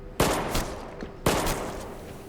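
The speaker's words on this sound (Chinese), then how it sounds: "任务结束了还开枪" Two sharp, close gunshots about a second apart ring out during a simulated special forces training exercise, each with a loud crack and a lingering, echoing tail.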